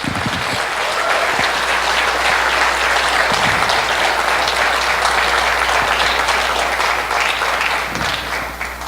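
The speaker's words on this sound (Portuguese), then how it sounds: "vamos dar uma salva de palmas para essa gente?" An audience at a church talk applauds teachers, a dense, loud and sustained wash of clapping from many hands that fills the room and carries on steadily before tapering slightly at the end.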